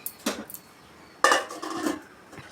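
A metal lid set onto a cooking pot of pongal: two brief clanks with a short rattle as the lid settles, close by and moderately loud, with no talk.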